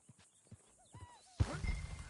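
Horses in the Red Dead Redemption 2 video game: soft clip-clop hoofbeats and a brief whinny at close range, followed by a louder burst of rustling, scuffling noise near the end.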